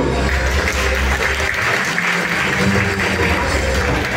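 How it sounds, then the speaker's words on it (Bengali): An audience claps loudly at the Precise Energy Olympiad 2025 award ceremony, a full, sustained wash of applause from a crowd in a hall that runs for several seconds. "আমরা আরো জোরে করতালি দিব।"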